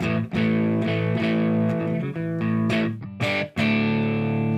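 A Telecaster-style Artist TL69 Thinline guitar plays sustained, heavily distorted chords through an HBE Detox EQ pedal, several strums separated by brief gaps, loud and up close with no voices.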